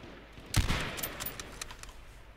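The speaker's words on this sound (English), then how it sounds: "They're shooting a Jeep." Gunfire aimed at a Jeep in a shooter video game: a single loud close report followed by a ragged scatter of fainter distant shots over a steady background hiss.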